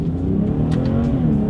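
A 2022 BMW 740i accelerating under paddle-shifted gears gives a steady, close low engine drone with faint rising revving tones and a few brief high bursts, and no talking.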